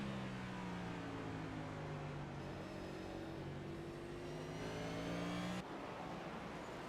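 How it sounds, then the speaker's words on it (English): A NASCAR race car engine in the iRacing video game rises in pitch through the gears, then drops sharply as it shifts, a continuous synthetic engine whine heard alone. "Listen to the race car and how he's shifting."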